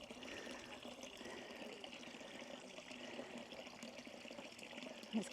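Clear spring water trickling and burbling at old wells on a muddy path in the Cotswolds, a faint steady babble close by with one small splash near the end.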